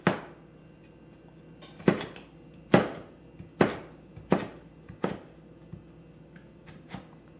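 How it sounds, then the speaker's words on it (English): A knife chops vegetables on a cutting board in a series of sharp, evenly spaced thuds, close and clear, fading toward the end, with no talking. "now just lay them sideways and cut those in thin slivers."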